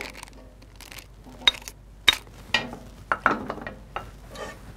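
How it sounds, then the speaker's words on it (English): A spoon stirs butter vigorously into buttermilk mashed potatoes, making irregular close scrapes and soft knocks against the bowl in quick bursts without any talking. "I just want to stir this pretty vigorously to dissolve the butter"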